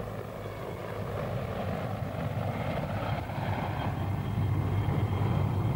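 Israeli Air Force CH-53 military heavy-lift helicopter, modified for desert conditions, producing a continuous low rumbling rotor and engine drone that builds slightly toward the end, steady and moderately loud with no speech.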